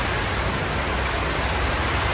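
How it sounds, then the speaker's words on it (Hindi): Stormy, heavy Thai rain gives a dense, unbroken hiss at even loudness throughout, close and steady, with no talking. "तूफानी बारिश।"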